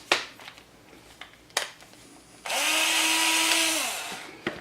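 A power drill bores a hole through a bicycle frame lug in one loud, whining burst of about two seconds. Quieter clicks and handling noises come before and after it.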